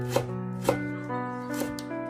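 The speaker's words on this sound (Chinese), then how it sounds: "准备一块去了皮的生姜，切成薄片，再改刀把它切成姜丝" A knife shreds peeled fresh ginger on a cutting board in a few spaced taps, heard close over a steady tonal background hum.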